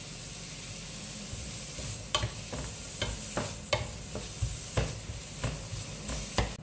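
Onion and garlic frying in a pan, a soft sizzle under repeated spatula strokes that scrape and tap the pan in an uneven rhythm, close up, with no talk.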